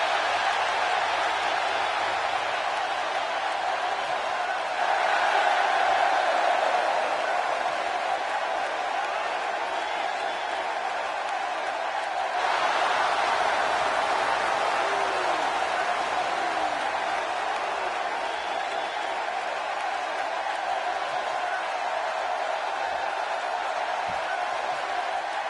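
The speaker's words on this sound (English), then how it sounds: "Oh, would you listen to this crowd?" Arena crowd noise from the WWE 2K17 wrestling video game: a steady, distant roar of cheering that swells twice during the stretch, with no talk over it.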